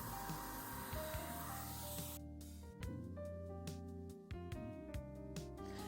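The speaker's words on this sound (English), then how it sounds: "starting my spray before I reach the piece, letting go of the trigger toward the end, and starting again." A Wagner Flexio 3500 paint sprayer hisses in short bursts as the trigger is pressed and released across a piece, the spray starting and stopping several times with no talking.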